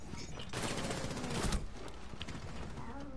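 Video game gunfire crackles in rapid bursts, a dense stretch of shots in the middle with quieter scattered pops after it, fairly faint overall.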